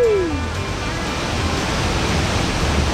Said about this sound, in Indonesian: Air terjun yang sangat lawa